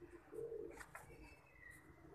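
Domestic breeder pigeons coo softly in a short, faint run of low, rolling calls with a steady background hiss behind them.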